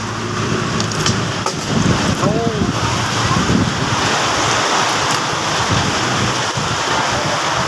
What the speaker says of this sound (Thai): ดูฝนดิ แรงจริงตกดีจริงบ้านผมอ่ะดูสิครับ